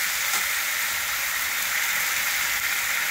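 Green leaves and a little ginger fry in a hot pan as they are stirred, giving a steady, close broadband sizzle with faint scraping, continuous for about three seconds with no talking.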